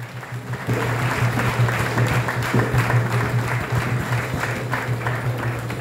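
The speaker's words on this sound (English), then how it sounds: "clap for that gentleman as he's coming." A school crowd at a high school poem and dance event claps steadily and continuously for several seconds after a short quieter start. The applause is even and sustained over a low electrical hum.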